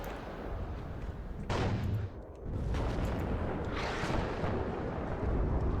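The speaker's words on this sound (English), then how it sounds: "You gotta fire the gun, switch off the gun, and fire the missile" Tank gun and missile fire in the video game WARNO, a dense barrage of heavy booms and rumbling blasts over continuous battle noise, with sharp impacts landing a few seconds apart.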